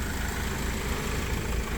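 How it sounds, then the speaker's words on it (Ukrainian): A 2016 Citroen Jumper van engine idles smoothly, a steady low rumble heard close up for a couple of seconds with no voices. "М'яка робота двигуна."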